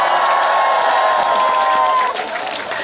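Audience applause and some cheering at a live Daejeon comedy performance by Buddhri, a broad wash of clapping with a steady tone running underneath that fades slightly near the end.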